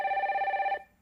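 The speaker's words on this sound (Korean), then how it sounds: "저희 다음 전화 연결돼 있다고 하는데 전화 받아보겠습니다" A telephone rings with an incoming call during a live Korean call-in broadcast, a steady electronic bell tone that sounds clearly for most of a second and then cuts off.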